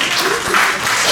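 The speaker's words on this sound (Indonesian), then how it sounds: "kasih tepuk tangan buat Pak" A congregation at a sermon gives a short burst of applause, a steady wash of clapping for about a second, fairly loud and close.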